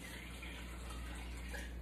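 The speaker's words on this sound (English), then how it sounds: "I'm gonna add 6 more cups of water" Tap water runs steadily into a pot of split pea soup being made at home, a close, continuous gushing rush with no talking.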